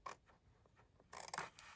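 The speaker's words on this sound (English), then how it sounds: "Cut the score mark out." Scissors snipping through card stock to trim away a score mark, a few quick close crisp cuts with a louder cluster near the end, no voices.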